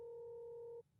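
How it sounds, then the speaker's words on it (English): An outgoing phone call on speaker rings once as a steady two-tone electronic burble that stops shortly before the end, faint and heard alone. "Calling SpongeBob. Yeah, it's ringing."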